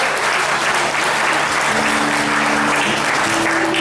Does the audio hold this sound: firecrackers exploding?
no